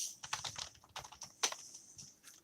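Irregular clicks and taps of fingers typing on a computer keyboard, close and fairly quiet, with bursts of several keystrokes and short pauses, no voice.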